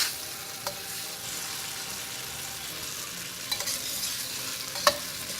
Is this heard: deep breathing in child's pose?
no